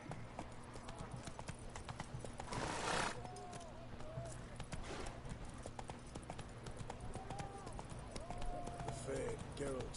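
Roach, the horse in The Witcher 3, gallops in a rapid, steady clip-clop of hooves with occasional snorts, while someone talks over the game sound.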